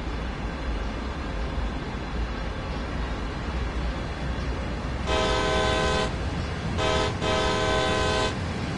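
Train horn sounding on a freight locomotive climbing Sand Patch Grade in Train Sim World 2, two sustained blasts, the second broken briefly, over a steady rumbling engine and track noise.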